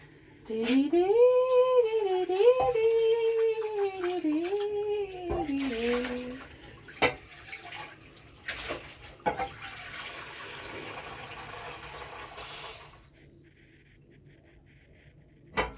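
Water runs from a tap into a pan with a rising, shifting tone as it fills, then settles into a softer steady stream before stopping.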